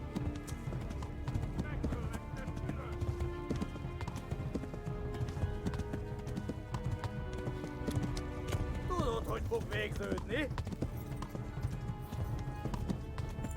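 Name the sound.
horse cantering in a video game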